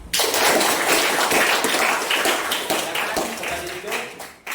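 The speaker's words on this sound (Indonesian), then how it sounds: "kita berikan tepuk tangan untuk mereka" Students in a classroom clap their hands together in a dense, steady burst of applause that runs several seconds before cutting off abruptly.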